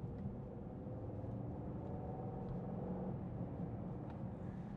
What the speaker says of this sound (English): give it some gas, you can hear that burbling engine